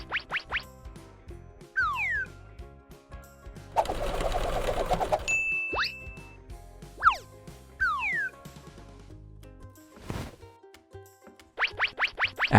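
A sewing machine stitches a paper shirt in a stop-motion paper pony scene, a dense mechanical burst lasting about a second and a half, set among bouncy cartoon music, boings and whistle effects.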